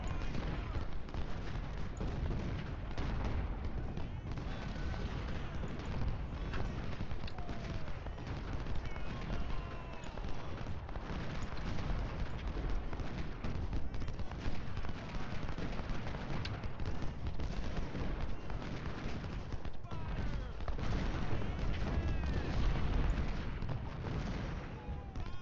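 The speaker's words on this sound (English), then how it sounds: "Looks like there's some artillery here at the back." Artillery fire in the Ultimate General: Civil War strategy game, a dense continuous roar of booming cannon and crackling gunfire that stays steady and loud throughout the battle.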